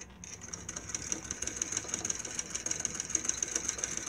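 A Singer Model 20 toy-size sewing machine runs a stitch in black thread on a white napkin, a fast steady whirring chatter that holds close and even for about four seconds with no talking.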